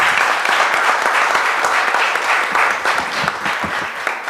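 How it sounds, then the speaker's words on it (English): Applause from the audience at a Martin Luther King Jr. commission event on voting rights, honoring a state senator: loud, dense clapping sustained throughout, tapering slightly near the end. "Let's give her another round of applause."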